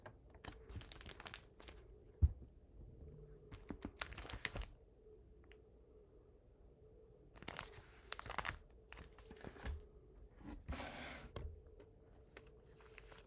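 Bursts of quiet key clicks from typing on a computer keyboard come in short flurries separated by near silence, with some crinkling handling noise mixed in; close and faint, no talking.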